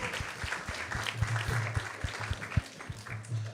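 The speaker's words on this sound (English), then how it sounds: "let's again give him a big round of applause" An audience at a Krishna Katha spiritual gathering gives a round of applause, steady, moderately distant clapping with a few sharper individual claps standing out, fairly quiet overall and with no clear speech.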